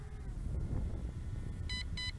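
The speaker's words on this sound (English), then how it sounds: "A couple of beeps can be heard" An LSRC LS38 foldable GPS quadcopter drone emits two short electronic beeps in quick succession on return to home, heard over a steady low outdoor rumble of wind and motors.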